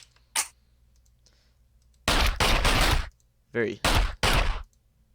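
Makarov pistol in the Minecraft Flan's Mod, heard as a click near the start, then a close, loud burst of shots, a brief voice, and two more shots.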